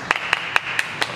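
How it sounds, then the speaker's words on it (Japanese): Short bursts of clapping from a small group gathered for a scooter backflip challenge, five sharp evenly spaced claps over a steady background hum, close and moderately loud, with no talk. "拍手お願いします。"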